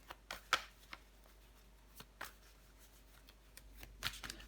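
Tarot cards being handled while one is laid over the Hanged Man card: faint, close papery slides and light snaps, a few brief rustles scattered through a quiet room.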